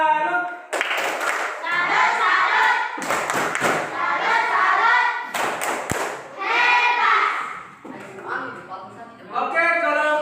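A classroom group applauds a student team, with bursts of clapping in several rounds that fill most of the stretch, some thumps mixed in, loud and close.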